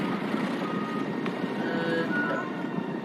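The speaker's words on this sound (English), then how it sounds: "Incoming truck. Left side." Reversing beeps from a truck in a video game, a steady series of faint high electronic tones over low engine rumble and background game noise.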